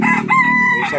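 A rooster at a chicken market gives one loud, close crow, a short drawn-out call amid nearby clucking.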